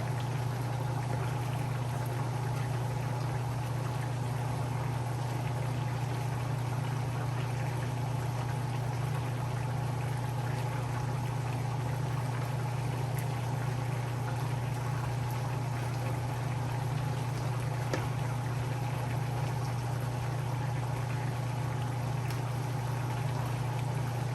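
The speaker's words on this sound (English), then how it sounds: "Pour some of that sauce on top." A low, steady bubbling simmer with a continuous hum, brown stew sauce gently burbling over fish in a pot throughout, no voices.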